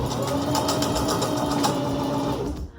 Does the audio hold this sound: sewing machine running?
yes